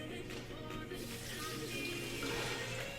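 Tap water runs steadily into a large cooking pot being filled to boil beans for Colombian beans and rice. The flow makes a faint, continuous hiss with no talking.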